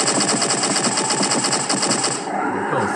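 A gun in a video game fires in a rapid, unbroken stream of loud, rattling shots for a few seconds, then trails off.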